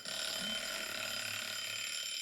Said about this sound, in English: Trying to stop my alarm.